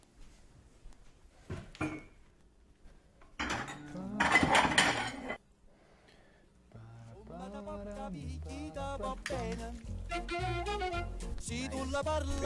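Plates, pots and cutlery clink and clatter while tagliatelle alla Genovese is served, scattered knocks and bright metallic rings at close range. A short stretch of talk sits between them, then music starts underneath.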